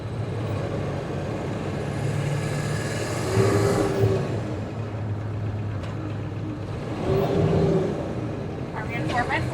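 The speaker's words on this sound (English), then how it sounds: "Why can't I get to fourth gear?" A car engine hums steadily under the cabin noise while a driver struggles to reach fourth gear. It revs up twice, each swell rising and then falling back, with people talking over it.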